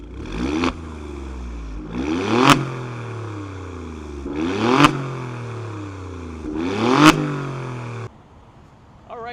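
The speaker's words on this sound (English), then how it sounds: "I just want to do a quick little performance, little rip, so you can hear the exhaust from the inside a little bit" Inside an Alfa Romeo Stelvio Quadrifoglio, the exhaust revs four times in quick succession, each rise ending in a sharp crack before falling back, loud and close, then quiet settles after the last rev.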